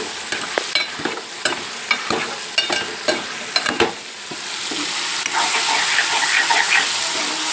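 Potato and brinjal curry sizzling in a pan, a spoon scraping and stirring in repeated rhythmic strokes, then settling into a steady, louder frying hiss, close and without talk.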